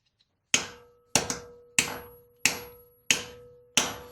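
Six sharp, metallic taps from a worn engine valve spring on a 1981 Jeep Wagoneer land at a steady, slow rhythm, each ringing out briefly before the next, loud and close with no talking.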